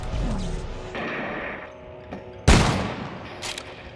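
Gunfire and impacts in the sci-fi horror video game Dead Space 3: scattered shots, then a sharp loud blast followed by rumbling echo and further bursts over a murky game backdrop.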